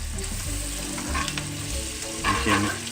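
A steak sizzles loudly in a pan while being basted, a continuous close frying hiss with spooning and scraping strokes swelling near the end; no talking.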